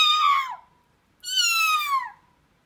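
A human voice imitates a ring-tailed lemur call with two loud, high wailing cries that slide downward, separated by a short pause.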